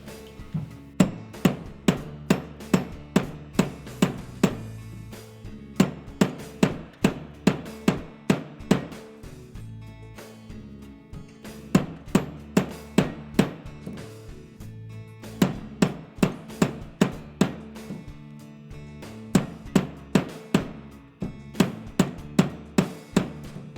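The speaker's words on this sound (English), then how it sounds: "we're going to start with the cross-peen side of the hammer" Cross-peen hammer striking metal hoop earring stock in a vise, sharp ringing blows falling in quick rhythmic bursts of about a dozen strikes, separated by short pauses, close and clear.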